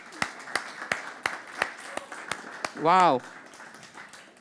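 A church congregation clapping for Jesus during a Resurrection service, a steady series of distinct claps in a fairly quiet room, with a brief spoken exclamation partway through.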